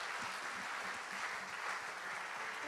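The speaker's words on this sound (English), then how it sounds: "You must give God a better clap offering" Congregation in a church service clapping hands in a loud, continuous, rhythmic burst, close and full throughout.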